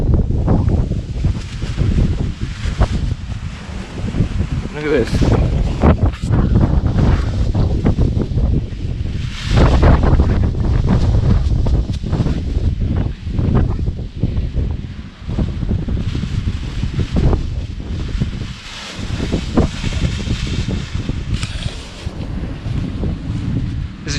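Strong gusts of wind buffet the microphone at an allotment garden in Tokyo in late November, a loud continuous rumbling roar with rustling surges throughout, and someone speaks briefly beneath it.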